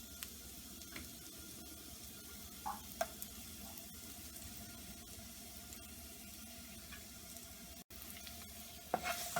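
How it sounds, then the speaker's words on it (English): Thinly sliced shallots sautéing in olive oil in a pan, a soft, steady sizzle with scattered faint pops and clicks, close and quiet, with no voices. "saute the shallots in the olive oil for a minute, not for too long"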